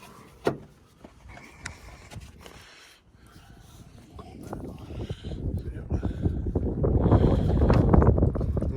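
Gusty wind buffets the microphone outdoors, starting with faint rustles and knocks, then building into a loud, steady low roar over the last few seconds.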